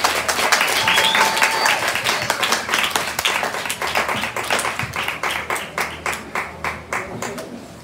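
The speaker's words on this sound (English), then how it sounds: "Please clap your hands as she makes her way." Audience clapping at a basic school graduation ceremony, loud dense applause that gradually thins into slower, more distinct individual claps toward the end.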